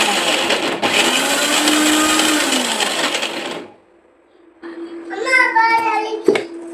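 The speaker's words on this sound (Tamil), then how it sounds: "இப்போ இது 3ஐயும் நல்லா மிக்ஸ் பண்ணி அரைச்சி வச்சுக்கலாம்." A mixer grinder blends spices and fennel into a sambar paste, a loud steady whirring drone for several seconds that stops abruptly, then a person speaks over faint background hum.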